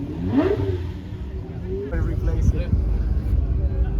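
Modified Porsche 997 at a supercar festival on an airfield, its engine revving and accelerating nearby, the roar rising after a brief lull, with people talking over it.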